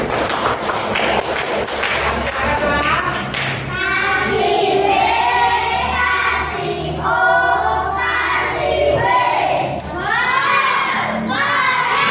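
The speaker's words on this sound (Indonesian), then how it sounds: "Ya, tepuk tangan untuk kelompok 1." Children in a classroom cheer and shout with some clapping for a group of pupils who made a plant-parts collage, a lively, noisy crowd of young voices filling the room throughout.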